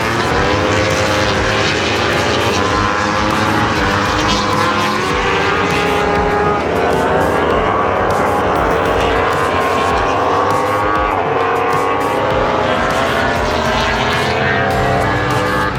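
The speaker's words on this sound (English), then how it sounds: "bloody noisy, these bikes" World Superbike racing motorcycles at Phillip Island, a loud, unbroken engine roar with rising and falling pitch as bikes scream past, filling the whole stretch without pause.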